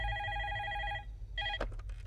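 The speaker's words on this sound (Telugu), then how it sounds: "బన్నీ, నీకే రా ఫోన్." An old-style telephone rings with a long electronic trill, stops briefly, then starts a second ring that is cut short by a clack as it is picked up. The ringing is fairly quiet, with a low hum underneath.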